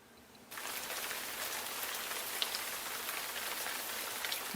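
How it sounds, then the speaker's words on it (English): Rain falls steadily, a soft, even hiss of drops on a surface that starts abruptly after a brief quiet moment and continues without talk. "I'm sure the rain will stop by then."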